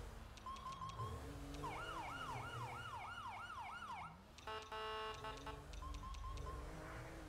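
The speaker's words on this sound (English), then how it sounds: "I like this siren and all. This is like my favorite siren." A police car siren in the video game LSPDFR cycles through wailing and yelping tones, switching patterns several times, steady and continuous with an engine hum underneath.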